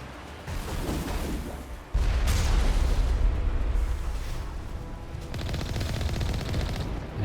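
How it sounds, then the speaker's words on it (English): Sniper fire and combat in the video game Mass Effect, with loud sustained gunfire and blasts dominating the mix and a sudden heavy burst partway through. "Where am I getting sniped from?"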